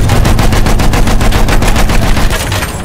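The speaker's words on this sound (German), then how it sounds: "Maschinengewehr gesichtet!" Rapid machine gun fire in the World War I shooter Battlefield 1, a loud, steady stream of closely spaced shots that runs unbroken for about three seconds.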